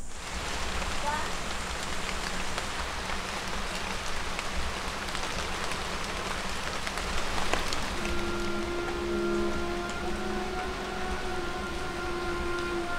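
Steady rain hisses across the whole clip in the jungle, a dense wash of falling drops, with a faint tonal hum rising partway through.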